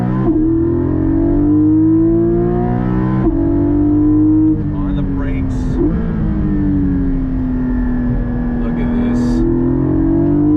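Loud, close engine of a 2021 Porsche Cayman GT4 PDK accelerating hard, pitch climbing then dropping at each gear shift, with a voice speaking over the roar.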